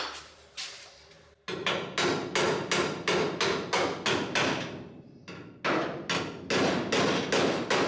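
Repeated loud, close hammer blows ring out on a metal body panel of a 1983 Volkswagen Golf Mk1 during inner arch and sill repair, struck in quick steady bursts with a short pause partway through.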